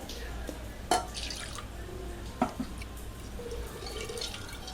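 Washed, soaked lentils and water are tipped from a pan into a pressure cooker, making soft liquid sloshing with two sharp knocks of utensil against metal, all close and quiet.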